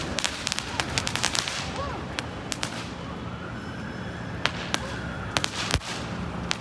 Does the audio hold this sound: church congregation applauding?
no